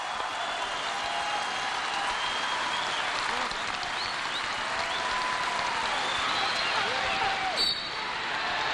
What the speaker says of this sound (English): and the crowd rises